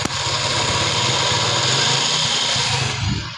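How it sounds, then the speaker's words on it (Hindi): A CD 70 motorcycle engine runs close up with its clutch pressed, a steady mechanical hum overlaid by a gritty grinding rasp from a worn clutch bearing, continuous and fairly loud with no talking. "जब हम इसका क्लच प्रेस करते हैं तो ये अंदर से ना आवाज़ शुरू कर देता है।"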